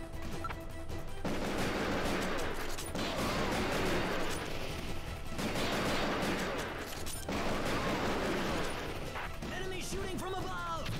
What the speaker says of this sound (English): Enemy shooting from above!